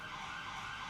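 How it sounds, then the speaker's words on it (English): Police car siren in GTA V, a brief steady wail heard faintly, as if passing at a distance. "wait for that police car to go past."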